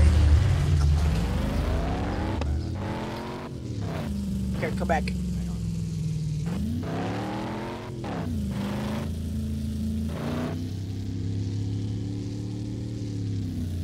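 A car engine in the Roblox game Ultimate Driving hums and revs, with its pitch rising and dropping in repeated sweeps under loud, excited talk from players.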